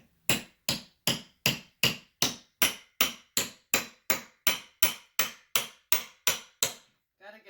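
A hammer strikes steadily at window trim, about sixteen loud, sharp, evenly spaced blows close by, each with a short ringing decay, then a small clatter at the end.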